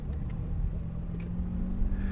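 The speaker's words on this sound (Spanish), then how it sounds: "el coche no arranca desde parado con fuerza, sino que lo hace poco a poco" A 2024 Mitsubishi ASX pulling away gently from a standstill, a steady low engine and road rumble heard from inside the car, rising only slightly with no sharp revving.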